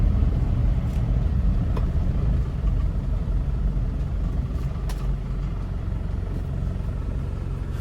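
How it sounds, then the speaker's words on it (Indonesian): The 2500cc diesel engine of a 2006 Isuzu Panther LM idles with a low, steady rumble, heard from inside the vehicle, continuous and moderately loud with no speech. "Suara mesinnya juga masuk."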